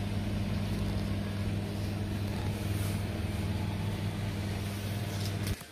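A microwave oven running after a new magnetron was fitted, a steady low hum and drone that holds evenly for several seconds before cutting off abruptly near the end.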